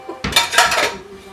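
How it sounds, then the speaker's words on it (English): A pie pan is pulled out from among metal kitchen pans, making a brief burst of clattering and clanking metal that lasts about a second before fading, with no talking. "Okay, now I'm going to get my pie pan."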